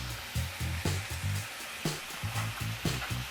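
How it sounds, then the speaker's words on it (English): Onions frying in a hot pan with wine, sizzling steadily with bursts of crackle and stirring scrapes in an irregular rhythm, close and moderately loud with no talking. "So now we're gonna let the onions cook."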